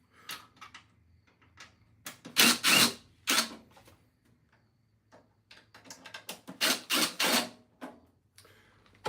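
A Dell Inspiron laptop case held by a couple of screws is taken apart, giving close bursts of plastic clicks and scraping handling noise separated by quiet pauses.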